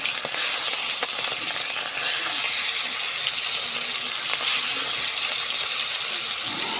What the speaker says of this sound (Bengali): চিংড়িগুলো ভেজে নেব।